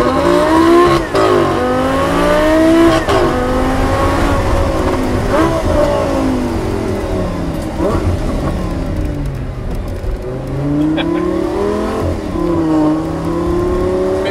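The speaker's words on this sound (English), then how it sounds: "we're in a customer's 800 brake horsepower supercharged R8 GT. We're going to take it for a quick launch" 800 bhp supercharged Audi R8 GT launching hard, a loud engine repeatedly revving up through the gears with rising and falling pitch sweeps and brief shift breaks, heard from inside the car.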